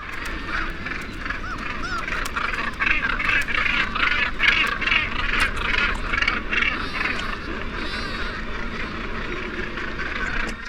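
A dense flock of large birds calling noisily at close range, overlapping honks and squawks of a squabble as more arrive and settle, continuous and loud throughout.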